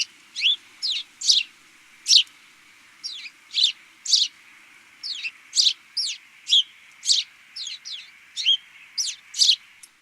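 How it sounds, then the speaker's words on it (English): A house sparrow sings in a driveway, a steady series of bright, sharp chirps repeated at an even rhythm, close and clear with no other sound. "it is, of course, a house sparrow singing to you in your driveway"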